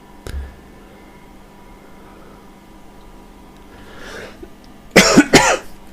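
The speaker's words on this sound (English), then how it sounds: "Got a cough and I can't shift it" A single sharp cough near the start, then a quiet stretch before a louder burst of two or three harsh, close coughs toward the end, alone without speech.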